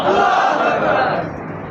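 A crowd roars out a takbir, Allahu Akbar, in one loud sustained collective shout that fades slightly toward the end.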